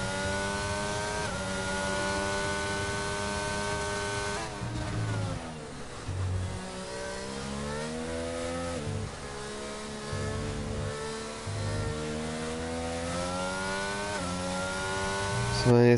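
F1 22 racing car engine at Abu Dhabi, a loud continuous high-pitched whine rising and falling through gear changes as the car brakes and accelerates through corners, with commentary voices partly beneath it.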